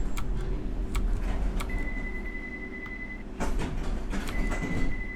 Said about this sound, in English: I just opened the doors on the left.